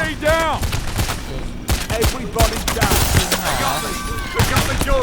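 Gunfire in the Payday: The Heist video game, rapid bursts of shots and sharp cracks in quick succession, mixed with excited voices and in-game character shouts.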